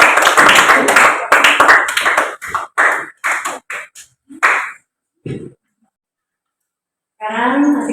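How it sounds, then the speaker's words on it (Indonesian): Students in a classroom applaud for a presenting group, giving a few seconds of loud, close clapping in bursts that fade into scattered claps and silence, then a voice starts speaking. "Berikan aplaus untuk kelompok 4."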